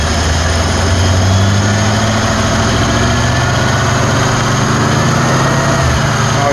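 An engine fitted with a Chinese-made Ford 2100 carburetor runs at partial throttle with a loud, continuous, steady drone and heavy low rumble, close by, holding its speed without stumbling.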